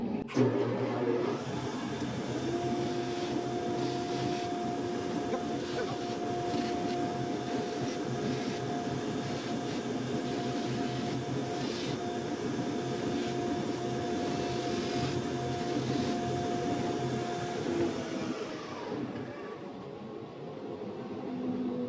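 A larger greaseless buffing wheel spins against a Bach 42 trombone, giving a steady whirring motor drone with a rough polishing hiss that runs evenly and then winds down near the end.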